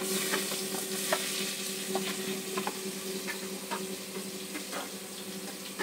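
Spice masala frying in a pan for dal in a home kitchen, a steady broadband sizzle with scattered clicks of stirring throughout, close and fairly quiet.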